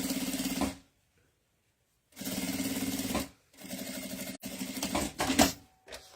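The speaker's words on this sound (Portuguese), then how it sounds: "Passo uma costura com um pé de máquina." Sewing machine running a seam with a machine presser foot on a printed fabric cosmetic bag, in several bursts of fast, steady mechanical stitching separated by pauses, close and loud.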